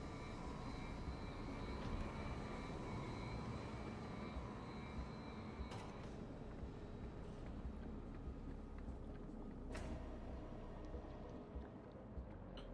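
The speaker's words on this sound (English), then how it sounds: "The exhaust fan had slowed down to a gentle speed." An exhaust fan turning at a gentle speed in the Beyond a Steel Sky game gives off a faint, steady, even hum with a few soft clicks, heard alone throughout.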